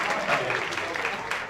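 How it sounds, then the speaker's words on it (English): Audience applause at an improv comedy show, a dense steady wash of clapping from a crowd filling the whole moment at moderate volume. "Let's give Kale a round of applause."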